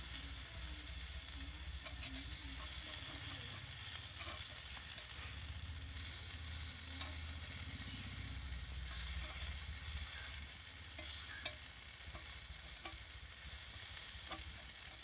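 Snakehead fish frying in oil on a stone pan, a steady, dense sizzle and crackle that holds for the whole stretch with small pops scattered throughout.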